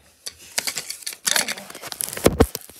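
Scissors snip and slice through the plastic packaging of a Twister game box, a series of close crisp cuts and crinkles that grow busier toward the end.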